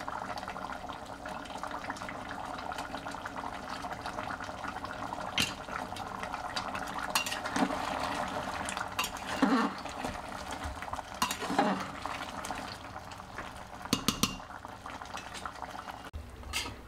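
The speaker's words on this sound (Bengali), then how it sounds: "সেই গুঁড়ো মশলাটা একটু দিয়ে আমি ফোটাবো" Mutton curry with ground spices bubbling steadily in a pot, a continuous close simmering burble with occasional stirring clinks and sharper pops.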